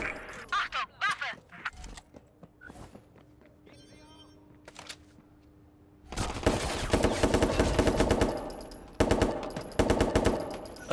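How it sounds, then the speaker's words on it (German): Three-round bursts of gunfire in the game Watch Dogs 2 come as sharp clusters of shots, first as scattered cracks and later as dense, loud repeated volleys. A voice talks over the early part. "Das ist immer so ein Dreierschuss oder was?"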